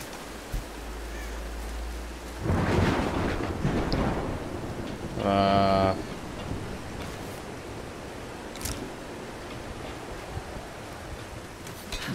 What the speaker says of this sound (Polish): Burza, burza, ale nie przesadzajmy.